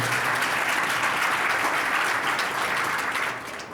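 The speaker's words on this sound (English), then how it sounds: "So one more time, give them a round of applause for their very, very lively discussion." An audience claps steadily after a panel discussion on museum architecture, a dense, even round of applause that holds loud for about three seconds before starting to fade.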